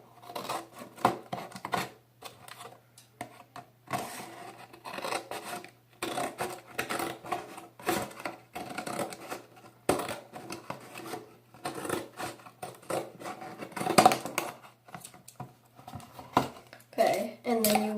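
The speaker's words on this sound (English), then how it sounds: "first step is to cut off all the flaps of the box" Cardboard box flaps being cut off with a blade or scissors, a series of scraping, rasping cuts and crunches coming up close in irregular bursts over a low steady hum, with occasional talking.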